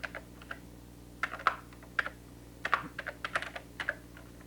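Typing on a computer keyboard while entering data in an Excel spreadsheet, sparse then quicker clusters of soft close key clicks over a steady low hum, no talk.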